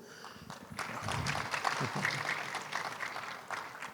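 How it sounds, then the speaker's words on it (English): Audience at a leadership talk on AI and people skills giving another round of applause, a dense continuous patter of many hands at moderate level throughout. "Another round of applause."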